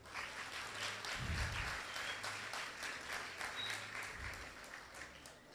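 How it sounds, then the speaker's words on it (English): An audience at a construction college open day applauds in a faint, steady wash of clapping heard from a distance, with a low thump or two beneath it. "just give all the persons who work at Heart a round of applause"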